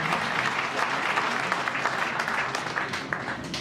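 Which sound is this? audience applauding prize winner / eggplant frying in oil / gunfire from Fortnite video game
audience applauding prize winner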